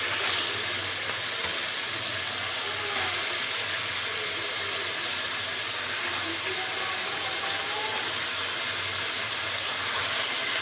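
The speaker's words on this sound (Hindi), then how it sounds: "तो अब मैं इसमें चिकन ऐड कर दूंगी" Chicken sizzles in a pan of sautéed garlic, ginger and green chillies for Delhi biryani, giving a loud, steady, close hiss that holds unbroken throughout with no talking.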